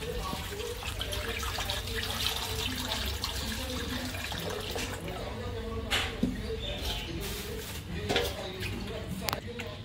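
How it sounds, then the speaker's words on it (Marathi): Halwa fish are washed and rinsed by hand in a vessel of water, with continuous close sloshing and splashing plus small clinks. Faint voices can be heard in the background. "हलवा आता धुते, व्यवस्थित स्वच्छ करते. 4-5 पाण्यामध्ये स्वच्छ मस्त धुवून घेते आता."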